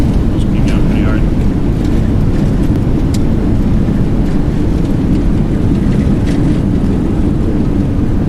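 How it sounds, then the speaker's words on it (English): Boeing 737NG thrust reversers roaring during a landing rollout in X-Plane 11, a steady loud broadband rumble held throughout with faint voices talking over it. "Reversers are out."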